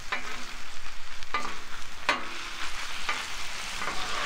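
Meat browns on a Blackstone griddle with a loud, steady sizzle, punctuated by about four sharp scraping strokes of a spatula across the hot flat-top surface.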